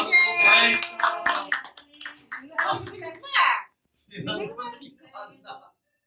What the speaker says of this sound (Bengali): সব হাততালি দাও। হাততালি হাততালি হাততালি।